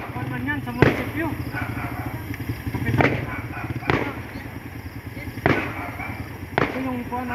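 Fireworks at a municipal hall in Jolo, Sulu, a series of sharp booming bursts spaced a second or so apart, loud and fairly near, with people talking and cheering throughout.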